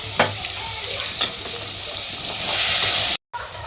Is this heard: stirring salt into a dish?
yes